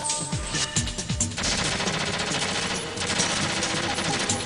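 Rapid bursts of gunfire crackle in quick succession, like automatic weapons in a Metal Gear game trailer, with a dense, continuous barrage filling the latter part.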